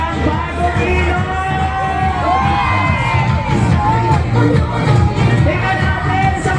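A large crowd cheers and shouts continuously, with whoops and high-pitched yells rising and falling over a dense, loud roar.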